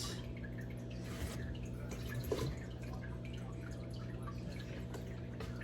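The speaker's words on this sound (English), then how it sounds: "there's actually a hose that's letting some water out" Water trickling and dripping from a hose, soft and continuous at low volume over a steady background hum, with a few slightly louder drips and no voices.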